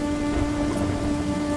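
Steady rain falls in a Hindi 2D animated story about a poor farmer, a dense continuous patter with a faint tonal hum underneath and no voices.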